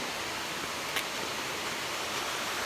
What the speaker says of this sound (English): That's a real nice waterfall.